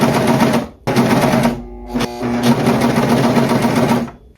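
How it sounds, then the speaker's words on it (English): A serger sews around thrifted-fabric panels, running in loud, steady mechanical bursts with two brief pauses, close up and with no talk. "I'm going to use my serger to go all the way around"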